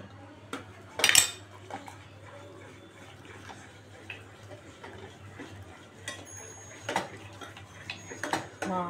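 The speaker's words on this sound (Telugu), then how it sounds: "బాగా ఒక నిమిషం బాగా ఇలాగ కలుపుకోవాలి" A spoon stirs kulfi mixture with vanilla essence in a metal pot, giving light scattered clinks and scrapes over a low hum, one louder rattling clatter early on, otherwise quiet and close without speech.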